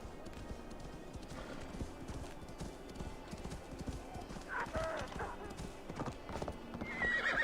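Horse hooves clip-clop steadily in the video game Assassin's Creed Valhalla, with a neigh and whinny breaking through near the end over a busy game soundscape and a low voice.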